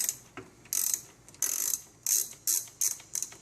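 A ratcheting wrench loosens a car battery's positive terminal, clicking in about six short, close bursts at an uneven pace, quiet and without speech.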